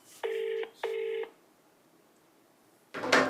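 A phone call rings unanswered on the line, with two evenly spaced ringback tones followed by silence and then a short burst of noise.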